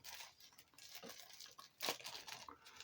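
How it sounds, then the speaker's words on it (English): A plastic bag is torn open by hand in a workshop, with faint crinkling and a short tearing burst near the middle, quiet and close. "oh come on, plastic bag, open."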